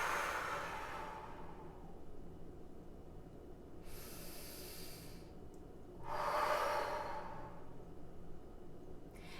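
Close, loud breathing during an abdominal vacuum exercise: long airy exhales and inhales with pauses between them, over a low steady background rumble, with no talk.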